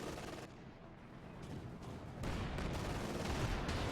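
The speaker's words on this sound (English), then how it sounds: "Does use a precision barrage" An artillery precision barrage in Company of Heroes 2 rumbles as a continuous wash of blasts and crackling impacts, growing louder and denser partway through, with no voices.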